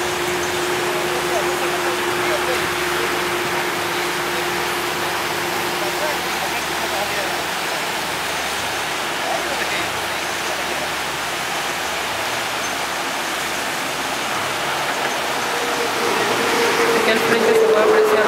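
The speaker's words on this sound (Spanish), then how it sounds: "todo el río Chancay ha crecido considerablemente en las últimas horas." Swollen Chancay river in flood rushing past, a steady broadband roar of fast water close by that fills the whole stretch, with a faint tonal hum under it and a slight swell in loudness at the end.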